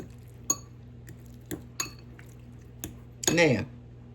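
A spoon stirring canned salmon with small onion in a bowl, giving a few sparse clinks and taps against the dish and ending in a longer scraping rattle, close and fairly quiet.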